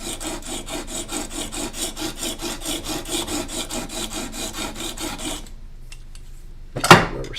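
A hand plane blade is honed on its primary bevel in fast, rhythmic back-and-forth scraping strokes on an abrasive, steady for several seconds before stopping, followed by a short sharp metallic clink.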